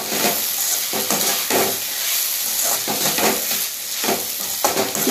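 Grated coconut and chopped vegetables with coriander frying in a pan for a mixed vegetable chutney, loud close sizzling broken by rhythmic scraping strokes of a spoon stirring every second or so.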